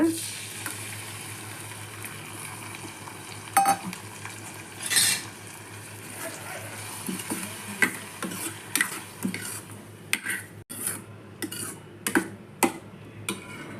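Metal spoon scraping and clinking against a pan as mashed brinjal is stirred into browned onions, with soft sizzling underneath; irregular scrapes grow busier toward the end.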